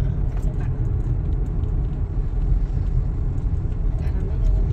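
A car engine with a slightly rough running note rumbles low and steady while driving on a busy road, heard from inside the cabin as people talk.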